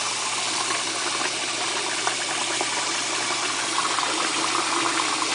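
Cold water runs steadily from a kitchen sink tap over a pot, a constant broad hiss and splash without pause, fairly close and with no talk.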